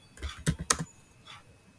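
A few quick keystrokes on a computer keyboard, close and quiet, three sharp clicks followed by a softer tap, with no talking.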